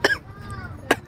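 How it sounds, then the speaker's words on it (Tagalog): Two short, sharp coughs about a second apart, with a faint tonal murmur in between. "tapos ubo pa ng ubo, walang tigil."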